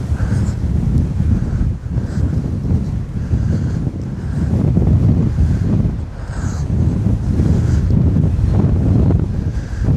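Wind blows hard along a riverbank, roaring and buffeting the microphone with a loud, continuous rumble that swells and dips in gusts over ten seconds, with no clear talk.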